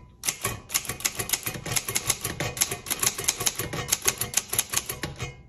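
Keys strike steadily on a 1956 Underwood Universal typewriter, a close, crisp run of about thirty sharp clacks at an even typing pace, alone without voices.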